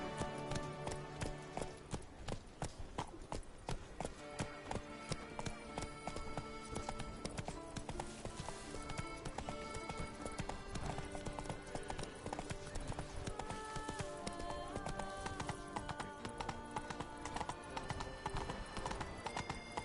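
Roach, Geralt's horse in The Witcher 3: Wild Hunt Blood and Wine on PS4 Pro, gallops with steady, rapid hoofbeats that run the whole time beneath layered orchestral game music.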